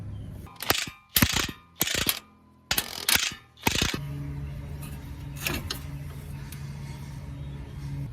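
A ratchet works loose the 24mm strut bolts and nuts on a fifth-generation Camaro during a coilover conversion: five or six bursts of rapid, close clicking, followed by quiet garage ambience with a few light metallic knocks.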